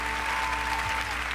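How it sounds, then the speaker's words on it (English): Audience clapping in anticipation before a country song on a live radio show, a steady moderate patter of many hands with a faint tone humming underneath. "they're clapping in anticipation"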